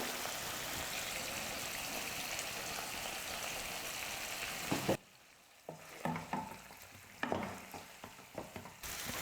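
Chicken pieces with ground pepper-cumin powder sizzle and fry steadily in a pan, continuous loud hiss for about five seconds, then quieter with intermittent stirring scrapes and bursts of sizzle.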